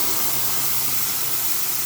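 Onion-mustard paste with black cumin hitting hot oil left from frying fish, giving a loud, continuous close hiss of sizzling that holds steady without pause.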